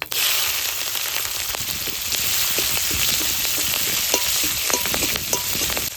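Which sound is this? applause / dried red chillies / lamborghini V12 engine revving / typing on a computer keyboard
dried red chillies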